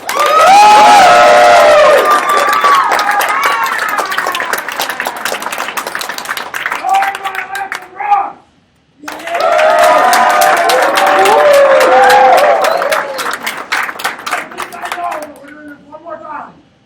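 Audience at a product debate event clapping and cheering loudly, with shouts and whoops in two bursts, each fading out, separated by a brief near-silence.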